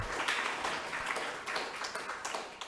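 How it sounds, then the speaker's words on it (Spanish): Audience applause at an international academic meeting for the event's organizer, a steady wash of many hands clapping from a moderate distance, fairly quiet and continuous throughout. "un aplauso a Magdalena por haber aceptado el reto de organizar"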